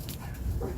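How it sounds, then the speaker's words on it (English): An indoor dog gives a short, close yelping bark with a whimpery edge. The single sound lasts under a second and no one talks over it. "Sorry, excuse the dog."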